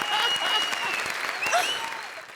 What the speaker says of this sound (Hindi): ठोकर ताली बंदी के लिए।